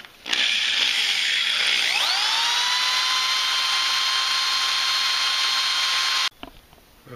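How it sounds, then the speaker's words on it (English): A sanding hone spinning inside a 4.7L Dodge and Jeep throttle body gives a high-pitched motorized whine that spins up, climbs in pitch, then holds a steady loud drone for several seconds before stopping abruptly. "Now I'm going to use this hone here, sanding hone."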